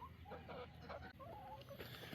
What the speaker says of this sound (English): So what kind of chickens do we have in our backyard?